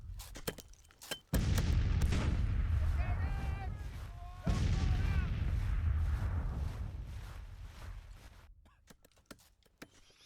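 Artillery fire booms in a Civil War battle in the Grand Tactician strategy game, with a few sharp reports followed by heavy sustained rumbling blasts that fade out, while someone speaks over parts of it.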